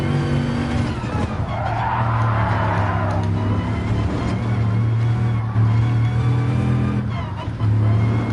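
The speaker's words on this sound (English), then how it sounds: "Ooh, that's like the third time I've spun out." A car spins out in a racing video game, its tires squealing and skidding over a steady engine drone that runs throughout, with a voice talking over it.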